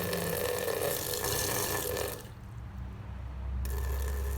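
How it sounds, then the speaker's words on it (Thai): A kitchen tap runs gently while cactus seeds of Mammillaria plumosa are rinsed in a sieve, giving a steady close water hiss that drops off briefly midway, then returns, with no voices. "เปิดน้ำ เปิดน้ำเบาๆนะครับ"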